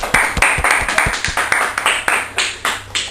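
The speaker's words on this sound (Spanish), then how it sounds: "Un fuerte aplaudimiento, por favor." An audience at a Spanish variety show claps after a performance of a song. The applause comes as a steady run of sharp, evenly spaced claps, close and loud, with no voices over it.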